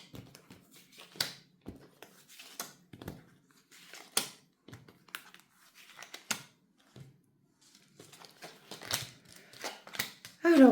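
Soft papery flicks, taps and slides as five tarot cards are drawn and handled, a scattered series of light dry clicks with quiet gaps between them.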